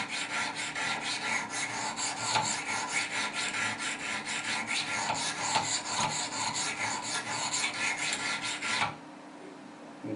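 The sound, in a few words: Wicked Edge sharpener honing Spyderco Paramilitary knife bevel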